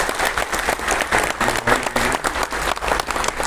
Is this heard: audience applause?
yes